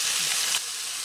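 A portable butane gas camping stove burner hisses steadily under a warming pan in a camper van, a bright, close, even rushing sound with a slight drop in level midway.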